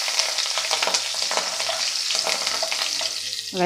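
Turmeric and curry leaves sauté in hot oil in a pan for a traditional spicy ground dal, giving a steady close sizzle and crackle throughout, with the spatula stirring and scraping now and then.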